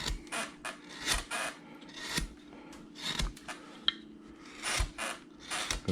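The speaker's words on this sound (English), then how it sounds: "I am going to use this big old number 9 gouge to start removing wood on here" A big number 9 gouge carving a Santa figure from a bandsaw wood blank by hand, with repeated short rasping scrapes and cuts in uneven rhythm, close and moderately loud, no talk.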